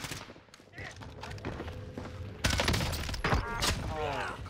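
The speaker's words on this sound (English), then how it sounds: "I'm taking fire" Gunfire in the shooter game Warzone, sharp bursts of shots and impacts, with a sudden louder barrage partway through and someone talking over the noisy fight.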